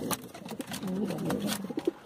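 Pigeons coo in low, rounded repeated phrases, fairly close and moderately loud, with a few sharper bird calls and rustles mixed in.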